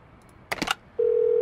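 Telephone dialing in the Do Not Feed the Monkeys video game: a brief cluster of quick button tones, then a steady continuous tone starting near the end, with no talk.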